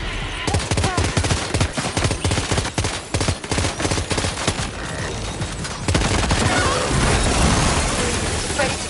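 Rapid bursts of gunfire in Death Stranding 2, dense and continuous for about nine seconds, with a sustained loud barrage toward the end.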